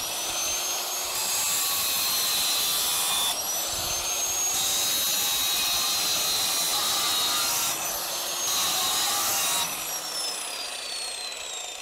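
A power grinder runs steadily across the top of an excavation digging tooth, sharpening its cutting edge, with a continuous high-pitched abrasive whine that shifts slightly in pitch as the tool passes along the metal, loud and close, with no talking.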